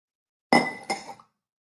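Ice cubes drop into a cocktail glass holding bourbon for a spirit-forward drink, giving a sharp clink followed by a second, softer rattle, close and alone in a quiet room.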